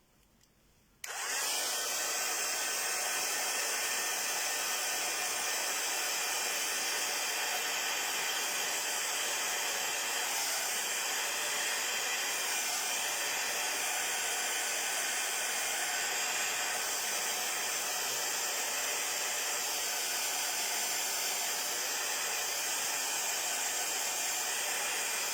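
A hair dryer switches on after about a second and then blows in a steady, loud, close whoosh, drying paint on a piece of artwork, with no talking.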